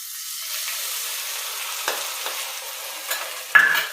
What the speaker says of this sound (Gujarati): મીઠા લીમડાના પાન આપણે બધો મસાલો પીસો છે એ પણ તેલમાં નાખી દઈશું